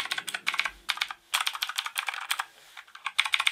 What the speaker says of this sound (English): it's obviously cherry blue knockoff switches, so they're not genuine cherry blues